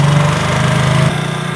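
A motorcycle engine idles steadily at high revs during carburettor tuning, a loud continuous buzzing hum that drops abruptly in pitch about a second in as the adjustment screw is turned.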